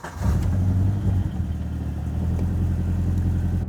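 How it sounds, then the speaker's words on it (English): Subaru BRZ engine running steadily at close range, a low even hum with a slight rise near the start, heard alone without voices. "when I start the car up, I actually need to turn on all of my switches"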